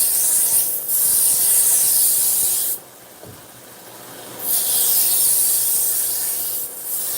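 A Mercer kitchen knife ground on a belt sharpening machine to raise a big burr: steady loud hissing rasp of abrasive on steel, broken by a short quieter gap midway, then resuming.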